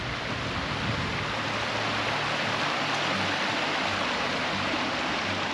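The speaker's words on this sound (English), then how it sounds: "And you got the stream going off through the back." A creek runs steadily through the woods behind a rustic lodge, a constant rushing babble of water close by with no voices.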